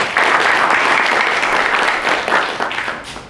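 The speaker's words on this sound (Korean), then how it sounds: "큰 박수 부탁드립니다." Loud, dense applause from a forum audience in a hall, sustained clapping that fills the room and tapers slightly toward the end.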